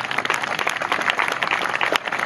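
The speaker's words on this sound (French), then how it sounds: "On peut l'applaudir." Audience clapping for a woman at an evening firewalk event, a steady, dense patter of many hands applauding continuously at moderate volume with no voices over it.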